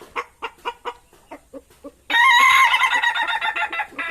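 An Indonesian laughing chicken (ayam ketawa) of the dangdut type gives a rapid series of short clucking notes, then breaks into a loud, sustained rhythmic crow close by.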